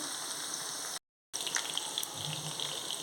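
Fish frying in a pan over a medium flame gives a steady, even hiss with small scattered pops and crackles. A brief dropout breaks the sound partway through.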